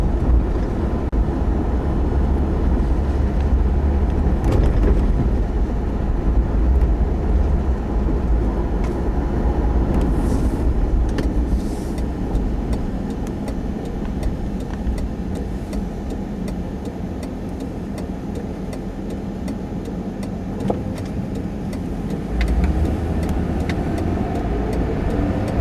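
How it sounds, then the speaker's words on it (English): A 2010 Mercury Grand Marquis cruises on a highway, its engine and road noise forming a loud, steady roar with swells as the car accelerates, and no talking. "Here on the highway, open her up a little bit and show you all what it can do."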